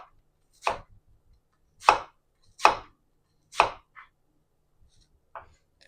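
Knife chopping onion on a hard surface, not a cutting board: four sharp, close thunks at roughly even intervals, followed by a couple of fainter taps in an otherwise quiet room.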